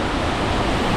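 Sayahan Waterfalls in Ormoc City pours in a steady, dense, close rush of falling water, continuous and loud with no voices.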